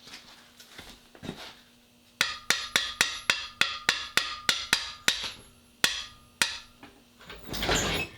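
Sharp hammer blows ring out on a cast iron engine block part from a 1977 Ford F250 351M teardown, about a dozen close, evenly spaced metallic taps followed by two more spaced strikes.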